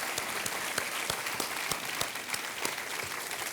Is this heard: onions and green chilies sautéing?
no